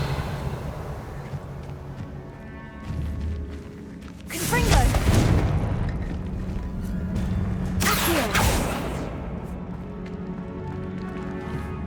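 Confringo blasting spell explosions in the video game Hogwarts Legacy, two loud bursts a few seconds apart, each a broad crackling blast with a rumbling tail, over steady game ambience and music.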